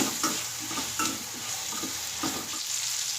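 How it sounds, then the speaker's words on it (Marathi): Chopped eggplant being stirred into a vegetable dish frying in a pan, with steady sizzling broken by a few scraping stir strokes of a spoon. "हे वांगे यामध्ये व्यवस्थित मिक्स करून घेऊया"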